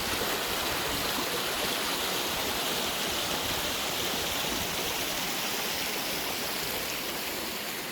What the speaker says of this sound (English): Just me and the woods and the sound of the river.